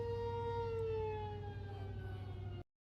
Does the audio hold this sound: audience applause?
no